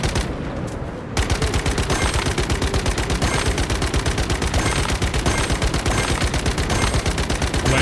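Rapid automatic submachine gun fire in the survival shooter Once Human, a dense, loud burst of shots that runs nearly continuously after a brief quieter opening, with no talk over it.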